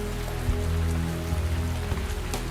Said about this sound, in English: When the rains come, koalas don't move out of their trees.